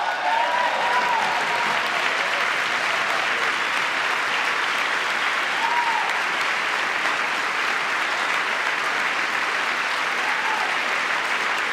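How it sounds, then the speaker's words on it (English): Sustained applause from the chamber audience during a presidential joint address to Congress, a broad, steady wash of clapping that holds for the whole stretch with a few faint cheers rising above it. "See some claps on the right. I see some lefties clapping."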